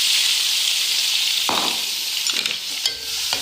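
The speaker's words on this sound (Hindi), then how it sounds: "जब तक हमारे प्याज फ्राई हो रहे हैं" Chopped onions sizzle and fry in hot oil in a kadhai, a steady bright hiss with a few louder stirring scrapes near the end, close and clear with no talking.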